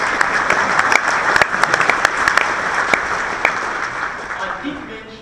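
Sustained applause from a theatre audience at a live event at the Capitol Theatre in Sydney, dense steady clapping with sharper individual claps standing out, lasting the whole stretch at an even loudness.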